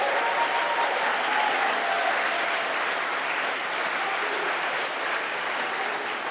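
Sustained, dense applause from a debate audience at the Labour leadership debate in Cardiff, a steady wash of many hands clapping at an even level from start to finish.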